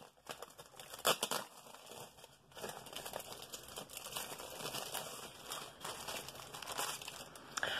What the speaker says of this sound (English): I'm trying to open the crinkly plastic